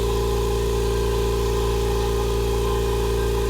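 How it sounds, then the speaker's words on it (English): A Stealth 12-gallon air compressor runs steadily while filling with air, a constant, even motor hum with no pauses or voices. "compared to a lot of air compressors I've used before, it's not, you know, you can hear the compressor working"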